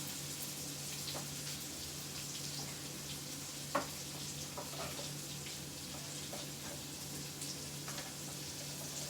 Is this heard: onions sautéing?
yes